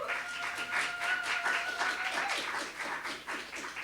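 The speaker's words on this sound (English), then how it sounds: "please clap for all of them" An audience claps for a group of musicians, including a saxophonist, after a Berklee presentation performance: a steady, fairly dense round of applause, with a faint sustained tone lingering underneath early on.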